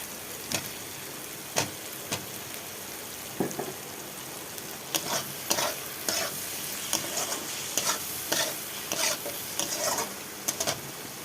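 Fried potatoes tossed into a hot pan sizzle steadily, while a spatula scrapes and knocks against the pan in repeated sharp strokes throughout.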